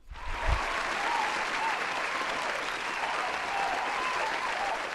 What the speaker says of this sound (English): Can we get a round of applause for Photo Joe in the chat?